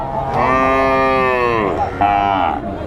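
A cow lets out a long, loud moo up close at a cattle market, then a second shorter one, over a murmur of background crowd noise.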